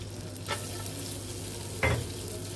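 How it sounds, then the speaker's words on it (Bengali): Garlic and ginger fry in butter with cloves, giving a steady close sizzle with two brief scraping stirs, one early and one near the end. "এখানে রসুন কুচি এবং আদা কুচি আমরা দিয়ে দিব এর মাঝে"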